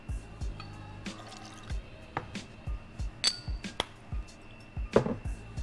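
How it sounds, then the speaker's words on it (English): Apricot brandy liqueur measured and poured into a cocktail shaker, close trickling pours broken by small glassy clinks and taps, quiet and intermittent, with no talking. "Then your apricot brandy liqueur."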